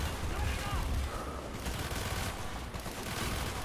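Dense gunfire in the video game Call of Duty: Black Ops: a continuous loud wash of overlapping shots and battle noise with no clear gaps, filling the whole moment.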